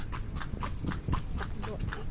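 Horse hooves clip-clop in a steady, regular rhythm on a rural road, fairly close, with faint voices in the background.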